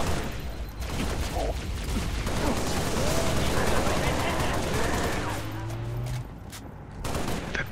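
Dense automatic gunfire and explosions from the Halo Reach video game in co-op play, a continuous loud barrage with rapid bursts that briefly drops out near the end before resuming, with voices talking over it.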